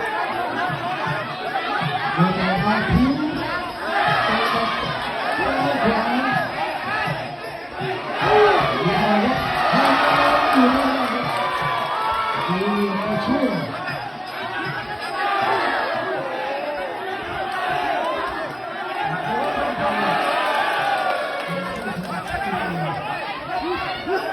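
A dense crowd cheers and chatters continuously at a boxing match between a father and son, with shouts rising and falling through a steady, loud roar of voices.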